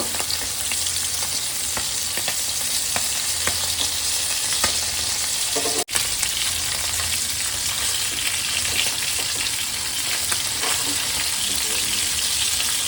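Steady crackling sizzle of puti fish frying in hot oil after being flipped, continuous and close, with a brief clatter partway through.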